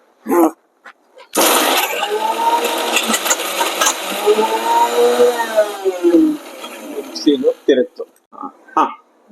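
A mixer grinder whirs loudly for several seconds as it grinds spices with rock salt, its motor pitch shifting as the load changes, with short bursts of talk before and after.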